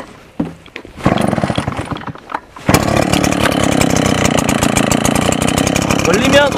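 A Husqvarna two-stroke chainsaw is pulled and sputters briefly, then catches and settles into a loud, raspy continuous idle close by, with a voice heard near the start.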